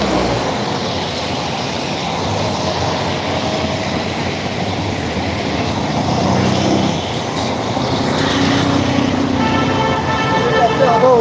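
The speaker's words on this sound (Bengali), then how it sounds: "গাড়ি সব স্বাভাবিকভাবে চলতেছে কোনো গাড়ির বন্ধ নাই" Steady road traffic on a Chittagong street during days of heavy rain: a continuous rumble of passing cars with occasional horn toots growing a little louder toward the end, with a voice talking over it.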